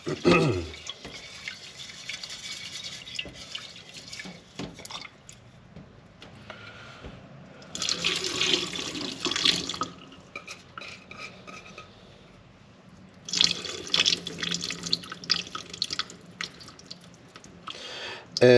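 Tap water runs while sushi rice is rinsed and rubbed in a bowl, with soft splashing and stirring that swells into two longer bursts of rushing water between quieter dripping stretches.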